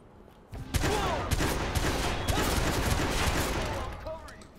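Rapid bursts of shotgun blasts and gunfire crackle in a Watch Dogs shootout, dense and loud with overlapping shots and sharp transients over about four seconds.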